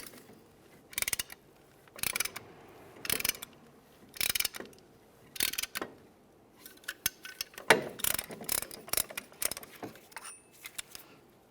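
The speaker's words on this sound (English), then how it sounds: "push back the caliper piston as far as it can go" A caliper tool works back the piston of a rear brake caliper on a 2002-2009 Chevrolet Trailblazer, giving repeated ratcheting clicks in short bursts about a second apart, growing quicker and denser toward the end, close and fairly loud.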